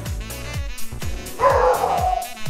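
A dog barks indoors at home during household chores: a string of sharp, fairly close barks in an irregular rhythm, with a whining, higher-pitched yelp rising partway through.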